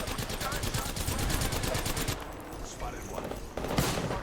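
Mastiff shotgun fire in Apex Legends: a dense run of rapid, loud blasts followed by scattered shots and quieter game sounds, with voices talking over the gunfire.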